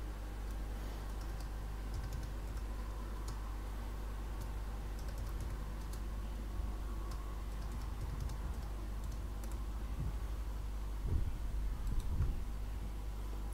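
Soft typing on a computer keyboard, heard as scattered quiet key clicks and taps over a low background hum, with no talking.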